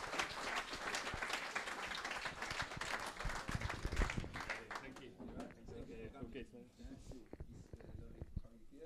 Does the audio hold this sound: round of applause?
yes